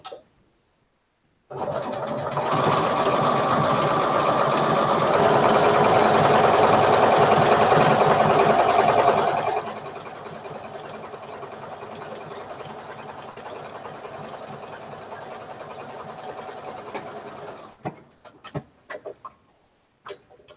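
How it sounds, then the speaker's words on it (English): A sewing machine runs steadily while top stitching a bag made from a sweater, first loud and fast, then quieter at a slower pace. It stops near the end, leaving a few soft clicks and handling noises. "Go back over here and do a top stitch."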